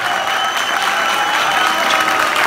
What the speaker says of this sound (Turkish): benden 800 kat alkışla hanımefendi